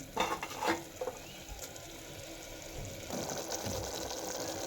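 Green chickpea curry in the Kathiyawadi style simmers over a low gas flame, a soft steady bubbling with occasional scrapes and clinks of a spoon against the pot.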